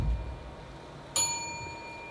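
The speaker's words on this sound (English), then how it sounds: "Ring the bell for Morris." A small bell in a school stage play gets one sharp, close strike, and its clear metallic ring hangs and slowly fades in an otherwise quiet room.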